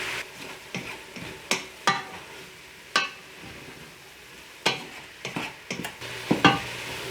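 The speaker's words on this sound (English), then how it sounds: "Now for the garlic, stir those around a little bit." Mushrooms and garlic sizzle softly in a pan while a spoon stirs them, giving a steady low frying hiss broken by several sharp scraping clicks and taps at uneven intervals, close and moderately quiet.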